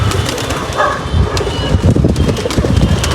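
Pigeons kept through the monsoon season, some sick with damaged tails, give soft intermittent coos over a steady rustling background, with scattered wing and movement noises throughout.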